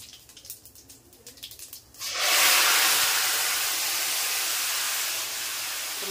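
Cumin seeds and two bay leaves drop into hot oil after a few quiet handling clicks, setting off a sudden loud, close, broadband sizzle that holds steady and then eases slightly.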